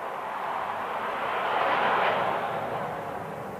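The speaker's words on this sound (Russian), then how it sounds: "Так, разошлись там самолеты." Airplanes passing overhead as a steady, broadband roar that swells toward the middle and slowly fades, distant and continuous with no voices.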